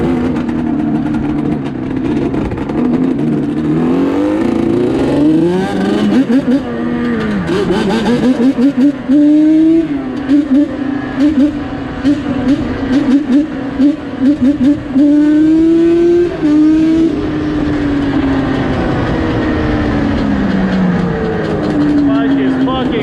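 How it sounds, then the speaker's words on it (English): Yamaha Banshee 350 ATV engine, a 1987 model, revving loud and close with rising and falling pitch sweeps over a constant rough drone, voices faintly mixed in. "This is my favorite bike because of the way it sounds."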